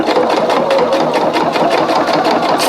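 Sewing machine stitching slowly through four layers of denim and interfacing for a bucket hat, a loud, close, rapid rhythmic clatter running steadily throughout with no talking.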